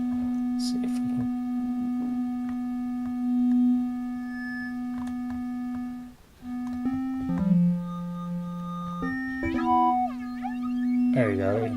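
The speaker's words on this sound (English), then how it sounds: "You get some distinctive comb filtering style effects." Synthesized tones from a Korg opsix hold and then step between pitches, carrying a hollow, metallic comb-filtered ring, with brief voices partly under them.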